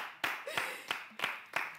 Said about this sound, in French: Applaudissez Daniela.